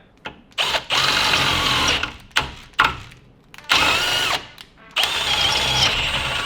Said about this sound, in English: I've never had this much trouble trying to drill something out